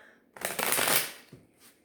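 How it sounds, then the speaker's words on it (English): Tarot cards being shuffled by hand, a brisk riffling burst of about a second after a brief quiet start, with a faint softer flutter trailing at the end. "I like to shuffle on camera a few more times."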